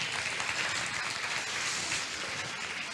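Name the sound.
congregation applauding in church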